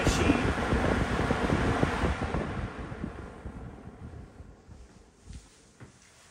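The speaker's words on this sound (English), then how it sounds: "I feel the low on this fan is just as powerful as many fans that are on high." A green Toastmaster Edison Thin & Light electric fan running on low, a close, steady rushing whoosh of air buffeting the microphone, fading somewhat over the last seconds.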